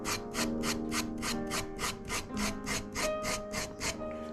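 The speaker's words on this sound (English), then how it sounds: "So we are filing the hammers both to remove the string grooves, but we're also going to take out the flat spot." A rasp files felt piano hammers in steady rhythmic strokes, about three per second, each a close, scratchy rub, continuing evenly with no talking.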